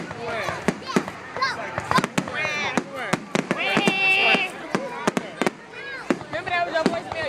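Fireworks burst in a rapid, irregular volley of sharp cracks and booms with whistling and crackling tails, while people talk nearby underneath the explosions.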